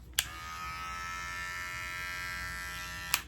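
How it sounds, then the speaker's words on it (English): A weak small hair clipper with a small taper blade buzzes steadily at low volume for about three seconds, with a click as it switches on and another as it switches off. "This is like a pointless clipper for the simple fact, first of all, it's very weak."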